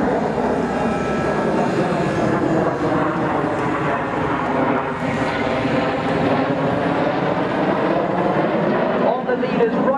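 Jet aircraft fly a display at the Waddington airshow, a loud continuous engine roar with shifting whine that stays strong throughout while an announcer talks over it on a public address.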